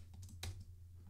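A few quick keystrokes on a computer keyboard tap out softly over a low hum, one slightly louder click in the middle, with no talking.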